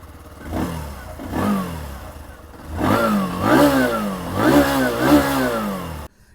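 A 2025 Bajaj Platina 110 motorcycle started and revved: the single-cylinder engine catches, then rises and falls through several short revs close by before cutting off.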